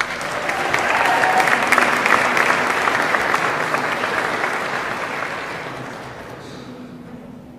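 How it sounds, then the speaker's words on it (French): An audience at a graduation ceremony for practical nursing graduates breaks into sustained applause. The dense clapping swells in the first seconds, holds steady, then slowly thins and fades toward the end, with no clear voices. "applaudissons encore une fois nos finissantes du programme Sciences infirmières auxiliaires"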